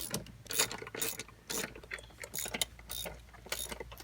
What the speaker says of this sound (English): Alright, now we'll torque these down.